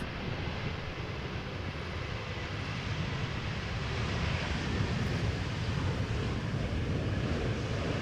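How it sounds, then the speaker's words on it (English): A KLM Boeing 737 taking off on a parallel runway at Amsterdam Schiphol, heard as a steady broadband jet roar from a distance with wind noise, rising slightly in loudness, no talking. "KLM B737 going for the parallel"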